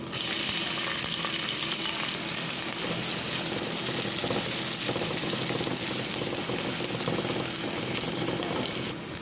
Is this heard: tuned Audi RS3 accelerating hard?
no